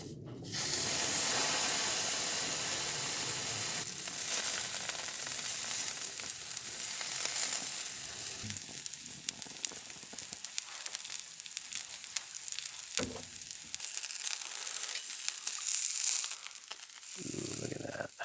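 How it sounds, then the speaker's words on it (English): Steak sizzles on a camping grill outdoors, a loud, steady frying hiss that carries on for many seconds and thins to softer crackling toward the end. "Get that steak on there."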